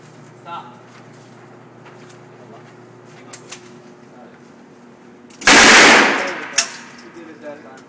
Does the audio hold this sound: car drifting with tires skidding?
no